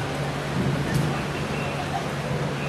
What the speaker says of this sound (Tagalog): bumuhos na po yung malakas na ulan dito sa DOJ